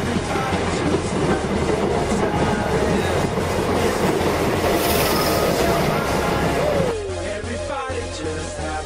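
A British Rail Class 321 electric train rumbles into Croxley Green station close and loud with clattering wheels, then slows with squealing brakes as the noise drops off.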